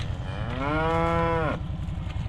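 A cow moos once in a barn, a long drawn-out low call lasting about a second over steady background rumble and clatter.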